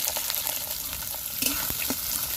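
Onion and green chili sizzle in mustard oil in a wok, a steady crackling fry with a few sharp stirring scrapes, fairly quiet and close.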